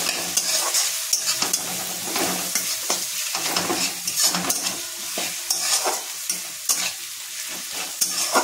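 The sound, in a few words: onions frying and being stirred with garlic and ginger in pan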